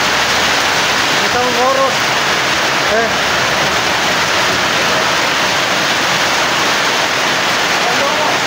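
Steady heavy rain hisses throughout at a night milking, with a voice speaking briefly partway through.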